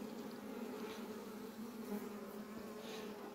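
Honey bees buzz around an open beehive, a soft steady drone with individual bees passing close now and then, quiet and without voices.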